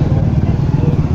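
A motorcycle engine idles or runs nearby, a loud steady low rumble with a rapid pulsing throb.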